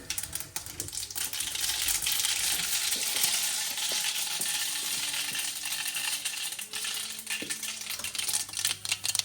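Mustard seeds sizzle steadily in hot oil in a home kitchen, a constant bright crackling hiss with scattered small pops that fills the whole stretch without talk.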